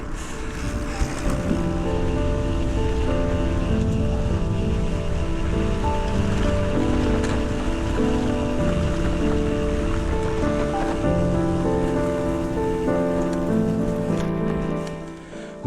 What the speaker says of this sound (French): la pluie a fait son apparition